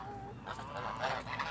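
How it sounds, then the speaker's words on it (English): Geese honk close by in a noisy outdoor setting, with a few overlapping calls rising over a rough background rumble. "Look at them geese."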